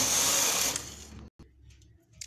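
Punch card knitting machine carriage sliding across while knitting a skirt, a loud steady mechanical whir for about a second, then a brief gap and quieter faint clicks and rattles.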